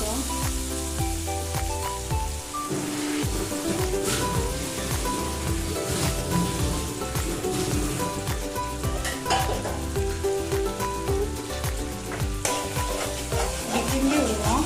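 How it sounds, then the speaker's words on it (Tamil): Steady, busy sizzling of eggs frying in a pan, with crackling pops and occasional stirring scrapes throughout, loud and close. "இப்படி தான் அமுக்கு முட்டை பொரிக்கிறோம்."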